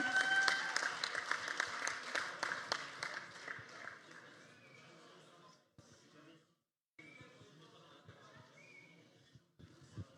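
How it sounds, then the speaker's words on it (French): Applause after a match at a robotics competition, a burst of clapping for a few seconds that thins and fades, followed by quieter room sound with some speech. "on peut les applaudir bien fort pour ça"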